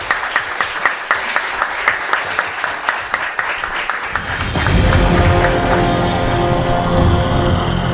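An audience claps steadily in a Spanish-language TV studio for about four seconds, a fairly close patter of hands. Swelling music then takes over and the clapping fades beneath it.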